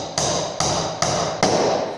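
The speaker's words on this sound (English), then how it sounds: "Notice how I'm holding the hammer." A hammer strikes four times at a steady pace while a wooden birdhouse is assembled, each blow a sharp, close crack followed by a brief ring. There is no speech.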